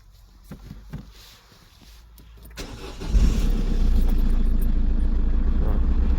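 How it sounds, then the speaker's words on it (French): Peugeot 308 1.6 HDi diesel car from 2009 starting up after a battery replacement: quiet clicks and faint noise, then the starter cranks and the engine catches near the three-second mark, settling into a loud, steady, close diesel idle. "essayer de démarrer la voiture."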